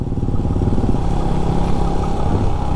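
A motorcycle is ridden slowly on the road to the Hemis Tsechu festival, its engine a close, loud, steady rumbling chug that runs throughout without any talk.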